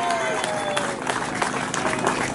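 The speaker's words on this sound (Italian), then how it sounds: "L'applauso per Manuel Sandy." Crowd applause for a cyclist at the start sign-in of the Memorial Pantani road race, lively outdoor clapping and cheering under an announcer's voice.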